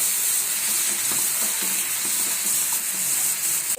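Ridge gourd pieces sizzle in a hot pan with spices for a ridge gourd curry, a steady loud hiss of frying with faint stirring clatter throughout.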